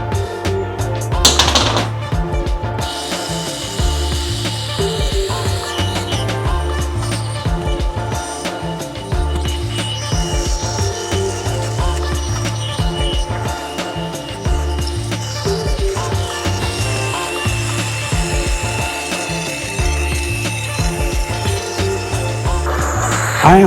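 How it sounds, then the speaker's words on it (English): Power tool removing rust from a rebar fire poker, a loud continuous rattling buzz with steady rapid pulsing, close to the listener throughout, with no talking. "I'm just sort of taking some of the rust off."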